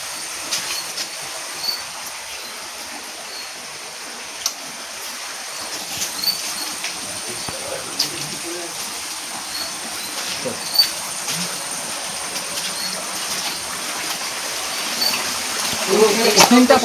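Floodwater rushing out at night during a flood at a river pump site in Ghatal, a continuous mid-distance watery roar with scattered faint knocks and clatters rising slightly toward the end.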